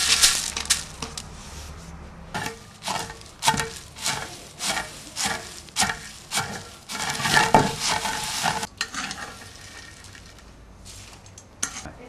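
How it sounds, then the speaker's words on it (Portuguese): Peanuts are pounded in a wooden mortar (pilão) to crack the kernels, a run of regular thudding strikes close by, loud and evenly spaced, that stops partway through and gives way to quieter rustling. "Agora levamos ao pilão, que é para dar uma pequena quebrada no grão do amendoim."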